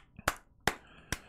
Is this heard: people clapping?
yes